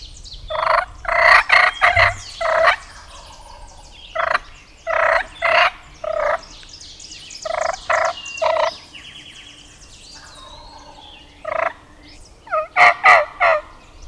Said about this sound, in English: Gobbling his brains out